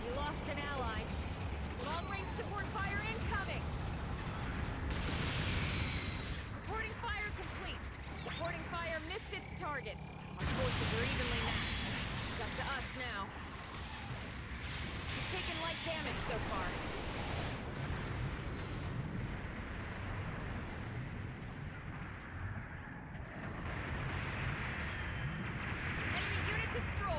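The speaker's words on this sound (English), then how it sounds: "Long-range support fire incoming!" Long-range support artillery fire in a video game lands as rumbling, broadband blasts and bursts, mixed with dense game noise and voiced lines over most of the stretch.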